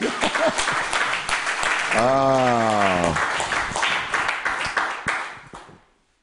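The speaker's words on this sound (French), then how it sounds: "Applaudissez Jésus, alléluia." A church congregation applauds and cheers during a sermon, with bright, rhythmic clapping and a long sung or shouted voice rising over it in the middle. The clapping then tapers off and fades out at the end.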